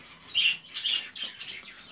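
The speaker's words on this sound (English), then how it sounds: "these are star finches. These are male and these are female." Star finches in a pet shop give a run of four or five thin, high chirps in quick succession. The calls are close and clear against a quiet background.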